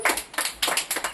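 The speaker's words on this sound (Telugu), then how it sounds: "క్లాప్స్." Children in an anganwadi classroom clap in a quick run of about eight sharp, close, rhythmic claps.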